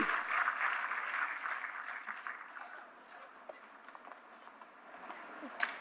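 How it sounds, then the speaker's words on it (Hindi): An audience at an award ceremony for handloom weavers applauds a recipient, dense sustained clapping that is strongest at first and then thins gradually while continuing to the end. "जोरदार तालियों से स्वागत कीजिए"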